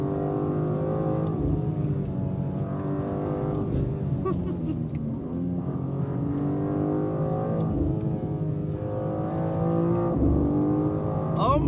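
Dodge Demon 170 driving hard with its rear end loose, its engine a loud, steady droning roar with shifting pitch throughout, heard from inside the car.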